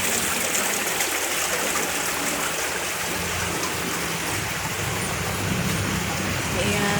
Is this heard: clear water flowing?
yes